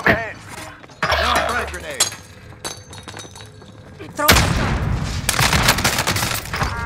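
Warzone Rebirth match audio with bursts of gunfire and sharp shot impacts, clinks and shattering, loud and chaotic throughout, with short bits of in-game voice mixed in.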